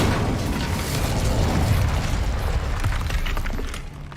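A fire spell is cast in the Hogwarts Legacy game, giving a loud, sustained burst of roaring, crackling flame that holds steady for about four seconds before tapering off.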